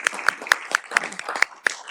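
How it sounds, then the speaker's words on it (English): Audience applause at a county Board of Supervisors meeting marking National Adoption Month, with kids present: a short run of evenly spaced, crisp claps that sounds like a modest group rather than a big crowd, with no talk. "One more round of applause for this group."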